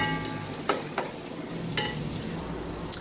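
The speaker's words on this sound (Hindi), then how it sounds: "एक से 2 मिनट इसको हम हल्का सा बस फ्राई सा करेंगे, गाजर को और शिमला मिर्च को।" Chopped carrot and capsicum sauté in a pan for dal makhani, a soft continuous sizzle broken by a few sharp scrapes and clinks of a spoon stirring against the metal, with no talking.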